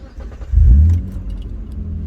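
A manual-transmission car engine is cranked with the ignition key and catches, a loud low rumble surging after half a second then settling into a steady idle, with a light key jingle at the start.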